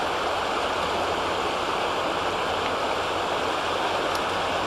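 Floodwater pours steadily from a flooded meadow lake into the Calapooya River near Bryant Way, a loud, unbroken rushing roar with no pauses.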